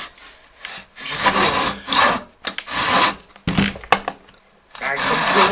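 A hand saw cuts through wood on a wobbly workbench in bursts of rasping strokes, loud and close, with short pauses between runs of sawing.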